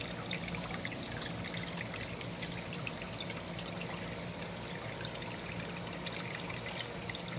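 Clear creek water trickles and flows steadily, a continuous close babbling with no voices over it.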